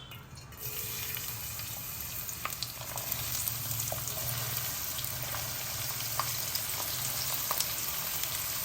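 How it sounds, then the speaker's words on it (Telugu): Onions dropped into hot oil for a mutton liver gongura gravy fry with a constant, even sizzling hiss that swells slightly after the first second and runs unbroken, with faint clinks scattered through. "నూనె వేడెక్కింది కదా ఇందులో ఉల్లిపాయలు వేసేద్దాం"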